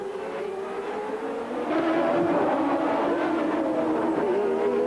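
IndyCar race cars at the Long Beach Grand Prix street circuit, engines droning loudly and continuously, with a rising surge of engine noise partway through as cars pass close by.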